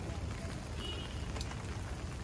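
Steady rain falling outdoors in Kuwait, a dense, even hiss of drops on surfaces that stays constant throughout, with no voices.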